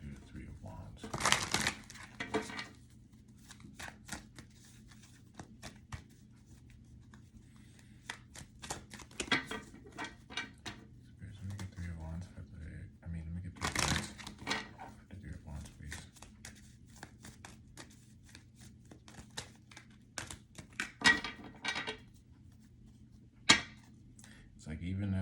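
Tarot cards being shuffled by hand in several short, crisp bursts of riffling and shuffling spread across a quiet stretch, with a low steady hum underneath.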